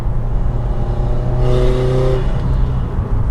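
A 2015 Subaru WRX STI sedan's engine pulls hard past 4,000 RPM at full boost, a loud continuous rumbling drone with a rising tone heard from inside the car.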